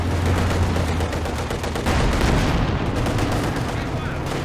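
Anti-tank guns and other weapons fire in the real-time strategy game Company of Heroes 2, a dense, loud barrage of overlapping shots and booms with a commentator's voice talking underneath.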